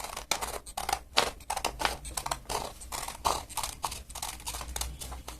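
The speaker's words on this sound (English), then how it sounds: "So carefully we're going to cut out the shape of the mask." Scissors cut out a paper Noh mask shape in quick, uneven snips, a crisp crunching of paper close up that repeats in short irregular bursts.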